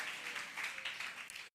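A church congregation claps hands together, a dense burst of applause at moderate level that runs steadily and then stops abruptly.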